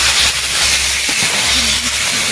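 Country chicken pieces drop into hot oil cooked down with spices, giving a loud, continuous, hissing sizzle that stays strong and steady throughout.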